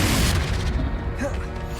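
Confringo fire spell blast in the Hogwarts Legacy video game, a dense rumbling boom with crackling burst texture that fills the whole short moment at steady, loud level.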